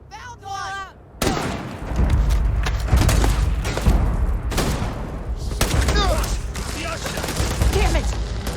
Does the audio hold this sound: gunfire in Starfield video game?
yes